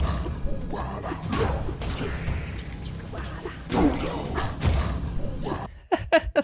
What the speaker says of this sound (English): Little dodos exploding.